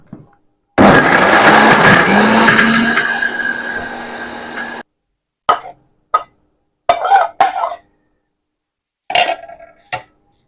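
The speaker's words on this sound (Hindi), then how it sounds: "इसको ग्राइंड करते जाएंगे।" Electric grinder blending raw mango pulp for chutney, a loud continuous whirring roar lasting about four seconds that cuts off abruptly, followed by a few short clattering knocks and taps.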